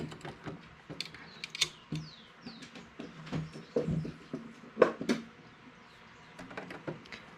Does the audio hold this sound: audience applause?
no